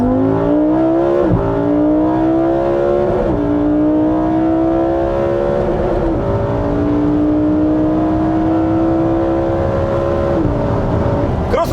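A Lamborghini Huracan EVO's naturally aspirated V10 revving hard through the exhaust, loud and close, climbing in pitch in several sweeps with brief dips at each shift, a steady unbroken roar throughout.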